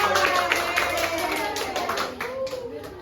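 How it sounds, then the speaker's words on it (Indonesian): A classroom audience claps for a student group stepping up to present, a loose patter of hands fairly close, with voices talking over and around the clapping. "Beri tepuk tangan dong"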